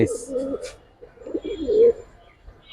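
Pigeons of fancy coloured breeds coo in soft, low bursts, close by, with a few brief chirps; the sound comes in a couple of phrases across the short stretch with no talking.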